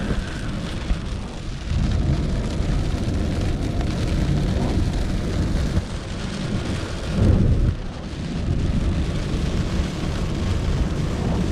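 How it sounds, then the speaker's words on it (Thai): Heavy rain pours down steadily during a thunderstorm, a dense loud hiss with rumbling thunder swelling around the middle and again later, no voices. "ตอนนี้ฝนตกหนักเลย"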